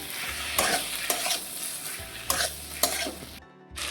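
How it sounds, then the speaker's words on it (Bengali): Small pieces of goat fat are stirred with spices in a hot pan, giving a steady sizzle with repeated scraping strokes of the spoon, close and fairly loud, ending in a short quiet pause. "এবার আমি নাড়িয়ে চাড়িয়ে নেব মশলার সঙ্গে চর্বিটাকে"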